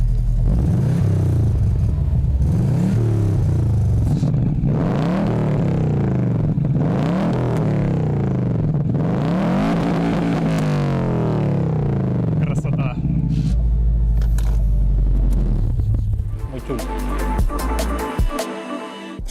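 A 2.5-litre Subaru Impreza WRX boxer engine revs repeatedly, its pitch rising and falling in several drawn-out sweeps, loud and close, with a steady low idle rumble underneath.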